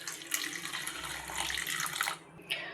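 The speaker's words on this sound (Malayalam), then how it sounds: "ആവശ്യമായിട്ടുള്ള കുറച്ച് വെള്ളം ഞാനിപ്പോൾ ഒഴിക്കുന്നുണ്ട്" Water poured into a sardine tamarind fish curry mixture in a pan, giving a steady close splashing and trickling flow that swells in the middle and tapers off near the end, with no one talking.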